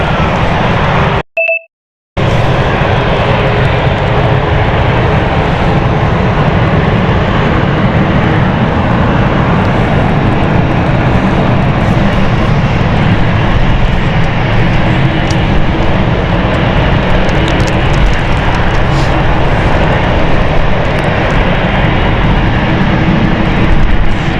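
City Flight aircraft moving at London City Airport on a stormy night, a loud steady engine roar with wind noise that runs almost continuously, broken only by a brief cutout near the start.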